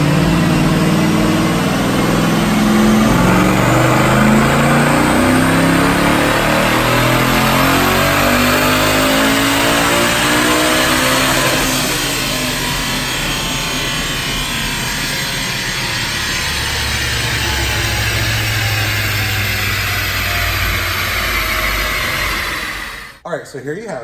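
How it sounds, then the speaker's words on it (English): A Paxton-supercharged 2012 Ford Mustang Boss 302 Laguna Seca on a Dynojet dyno revs hard through a long, loud pull, engine pitch climbing steadily with supercharger whine before the run cuts off abruptly near the end. "Let's go make that dyno pull."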